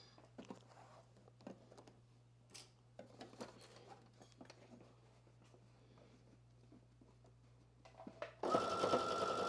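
A sewing machine runs in short, uneven stitching bursts with small clicks and pauses while sewing a top, then a loud steady whir takes over near the end.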